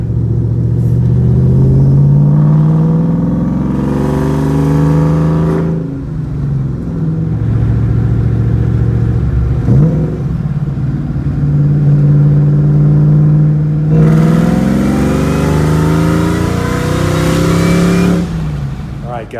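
A 2004 Cobra engine, freshly fitted with new coil packs and spark plugs, revs repeatedly, rising and falling in loud, close bursts with a deep rumbling idle between, and a voice speaks briefly over it.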